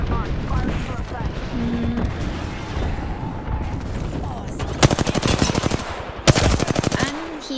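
Gunfire in the video game Apex Legends breaks out as rapid automatic bursts near the end, loud and close, after a stretch of mixed game sounds and voices talking.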